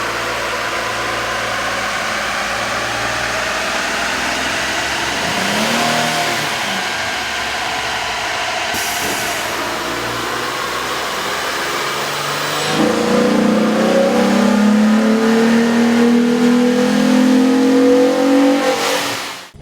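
A 3.8L V6 engine in a Jeep Wrangler with a K&N air intake revs up on a dyno and holds at high RPM, a loud continuous roar that climbs in pitch and intensity toward the end, with no voices.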